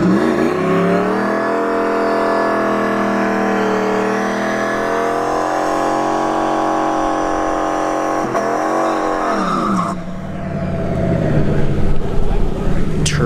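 A turbocharged New Edge car launches hard down a drag strip, its loud engine holding a steady roar through the run, then shifting and trailing off before the noise swells again.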